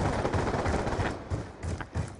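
Rapid automatic gunfire in Call of Duty Black Ops 2, a dense burst of loud close shots in quick succession, with a brief lull before a few more cracks.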